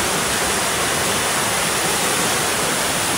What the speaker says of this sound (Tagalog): Ayan ilog.